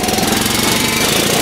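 A 16HP Onan twin-cylinder engine on a Sears Suburban SS16 garden tractor runs rough and loud just after a winter cold start, a close, steady, knocking chug with no talk over it.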